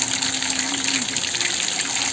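Water gushes steadily through a household water filter as the filter media is washed, a constant loud rushing flow with no talk.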